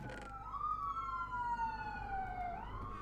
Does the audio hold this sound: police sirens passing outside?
yes